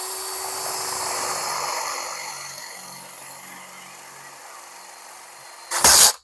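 A 5/16-inch drill bit bores into an old spark plug held in a vise, a whirring cutting drone that fades gradually over several seconds before a brief sharp clatter at the end.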